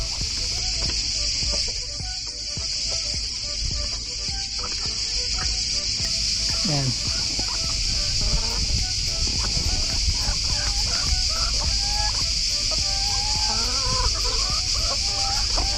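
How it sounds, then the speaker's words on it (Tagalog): Several laying hens cluck and gobble near and far over a constant high-pitched hiss, with overlapping calls throughout and no pause in the flock noise. "silipin natin tong mga manok paitlogan"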